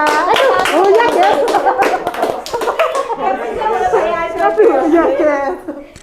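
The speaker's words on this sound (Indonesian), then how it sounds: "Tepuk tangan dulu." Hands clapping on an Indonesian talk show about long Covid, sharp repeated claps over lively chatter and talk, with light laughter as the clapping fades into speech.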